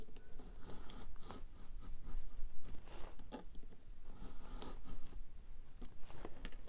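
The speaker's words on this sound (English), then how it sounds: "you are just going to cut through" Scissors cut through a paper envelope close up, with a series of crisp snips and papery rustles coming in an uneven rhythm.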